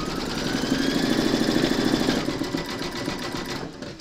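An embroidery machine stitches a skeleton applique design, a continuous close mechanical whir with rapid needle pulsing that eases off toward the end.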